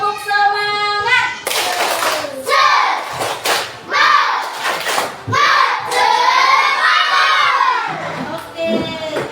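A classroom of children performs a rhythmic spirit clap, with bursts of patterned clapping and loud group chanting and shouting in between.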